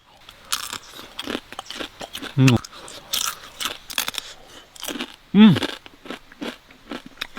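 Crab being eaten outdoors in the wilderness, with close crunching bites, cracking shell and chewing in irregular bursts, mixed with a person talking.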